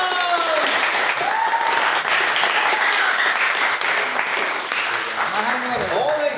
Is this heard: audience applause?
yes